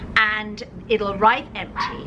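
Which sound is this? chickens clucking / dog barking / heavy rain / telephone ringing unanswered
dog barking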